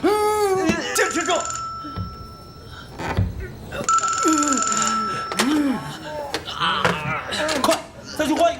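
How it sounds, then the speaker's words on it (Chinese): An old telephone hidden in a warehouse wall rings in a Chinese war film about the defense of the Sihang Warehouse in the Battle of Shanghai. It gives shrill, sustained bell bursts twice amid urgent shouting voices and other film sound. "这墙里好像有个电话。"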